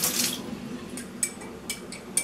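Cold water runs from a tap at close range, with a brief splashing gush at the start and then a few sharp drips and clinks over a low steady trickle; no talking.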